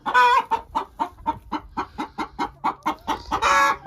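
Hen clucking in a farm coop, a steady run of about a dozen close, evenly spaced clucks that swell into louder, drawn-out squawks at the start and end, with no talking.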